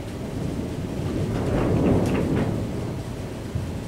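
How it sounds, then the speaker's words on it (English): A strong windstorm roars outside, a steady rumbling rush that swells in the middle and then eases back; no talk. "The wind's going to rip my roof off."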